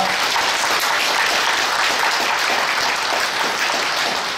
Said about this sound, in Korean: 여러분 다시 한번 환영과 격려 박수 해주시기 바랍니다.